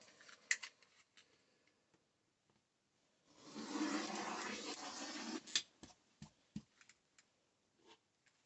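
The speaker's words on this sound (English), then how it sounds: "I'm just going to cut these selvages off" Scissors or a cutter slice through the selvage edges of stacked batik fabric, heard as a sustained close cut in the middle, with sharp clicks and snips before and after.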